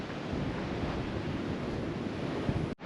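Ocean surf at a Sydney coastal lookout on the Coogee to Bondi walk, a steady broadband wash of waves mixed with wind buffeting the microphone, loud and continuous, with a brief dropout near the end and no talk.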